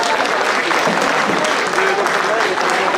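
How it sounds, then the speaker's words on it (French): Exhibitors at a gastronomy fair in Le Mée-sur-Seine get a round of applause from the crowd, dense close clapping running throughout with voices mixed in. "et on peut les applaudir"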